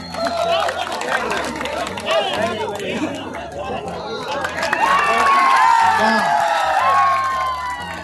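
A crowd at a Bihar election rally in Jokihat cheers and claps amid loud chatter and shouting, with a PA voice and whistling tones rising toward the end.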